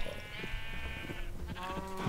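Sheep in the video game Minecraft bleat in a wavering, nasal call, several overlapping bleats close by and fairly loud, with the game's background sounds underneath and no talking.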